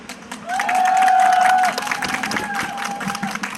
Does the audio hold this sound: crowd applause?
yes